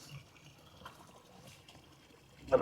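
Water trickles slowly and faintly from a half-full barrel into an outdoor pond, a soft steady flow with a brief louder splash at the end.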